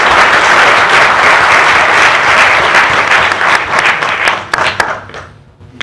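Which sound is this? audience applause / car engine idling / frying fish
audience applause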